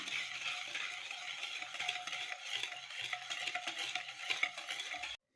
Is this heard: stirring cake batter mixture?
yes